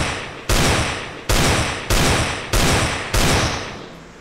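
Small pistol shots in a zombie video game, six loud evenly spaced single reports, each with a sharp attack and a decaying tail, with no talk over them.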